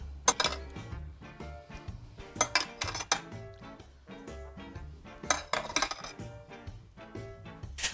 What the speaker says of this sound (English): scoop some of the drippings out of the bottom of the turkey pan and nicely over the top of the stuffing